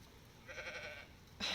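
A flock of sheep in a garden, guarded by a shepherd, with bleating rising at mid-clip and a louder, closer bleat near the end over a quiet outdoor background.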